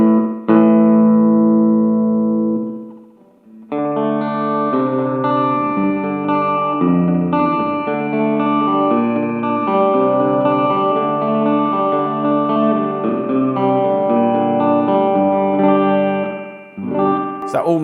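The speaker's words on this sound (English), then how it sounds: "if we turn up the repeat rate, then obviously we get some repeats" Electric guitar notes played through an Evans Echopet EV-50 analogue delay pedal with an MN3005 bucket brigade chip, each phrase trailing into echoing repeats that blur together like a reverb wash.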